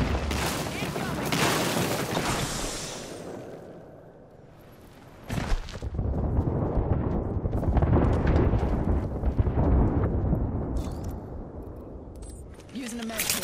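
Airstrike explosions in the video game Apex Legends boom and rumble as heavy, continuous bursts, dropping briefly before a sharp new impact and a long roaring stretch of blasts.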